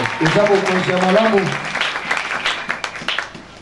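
A church congregation applauds in a dense wash of clapping, mixed with a voice and music, fading out over a few seconds.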